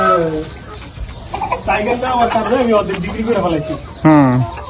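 Sonali chickens clucking and squawking close by on a farm, several birds calling over one another in bursts, with a person talking in the background.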